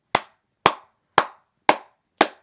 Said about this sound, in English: We need to give some applause for David Fincher here.